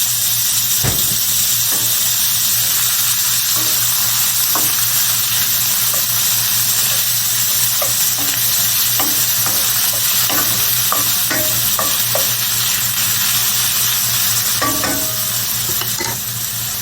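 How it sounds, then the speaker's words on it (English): Saltfish fries in a little oil for ackee and saltfish, crackling and sizzling steadily while a utensil scrapes and stirs the pan in irregular clinks and scrapes throughout. "but I like my saltfish fried a little bit. I put some oil in the saltfish."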